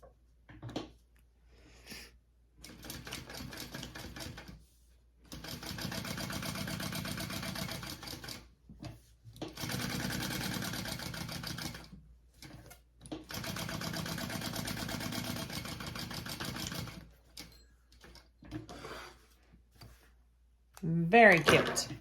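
A sewing machine basting straight-edged lining pieces together, running in several steady bursts of a few seconds each, separated by short pauses.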